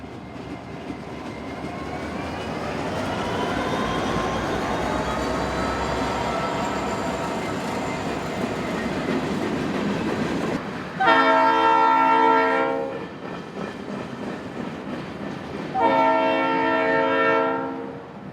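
A local freight train on a branch line rumbles past loudly with a droning engine, then sounds two long, blaring horn blasts in close succession.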